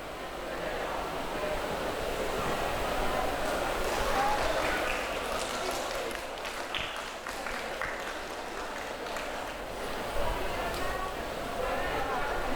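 An audience claps at the opening ceremony of a charity health check event, a dense, steady wash of applause lasting several seconds, with a voice speaking over it.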